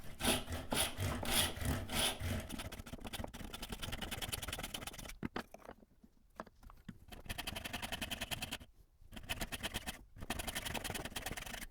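A kerfing plane saws a kerf into the end grain of a wooden board with quick, rhythmic back-and-forth rasping strokes, close and fairly quiet, broken by a couple of short pauses before the strokes resume.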